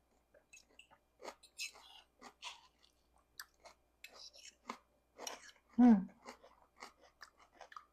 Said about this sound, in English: Pepper is still crunchy.